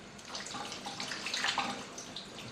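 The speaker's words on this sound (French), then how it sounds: "Fermer le robinet lorsqu'on se lave les mains." Water running from a tap while hands are washed, a soft, steady splashing stream, faint and close, heard alone without voices.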